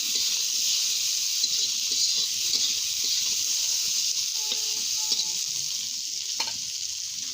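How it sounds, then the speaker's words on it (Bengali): Potatoes fry with salt and turmeric in a pan, giving a steady, close sizzle and crackle with faint stirring scrapes throughout and no talking. "এখানে দেব স্বাদ মতো লবণ, একটু হলুদ গুঁড়া, এটাকে ভালো করে ভেজে নিব।"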